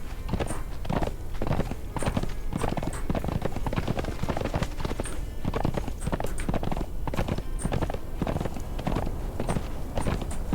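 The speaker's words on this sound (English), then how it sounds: "I named this horse Dune" A horse's hooves clip-clop at a walking pace in the game Conan Exiles, a steady close rhythm of muffled thuds with faint higher ticks, continuing throughout.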